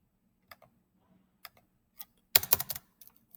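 Short burst of rapid keystrokes on a computer keyboard, a few isolated clicks before and after, quiet and close with no talking.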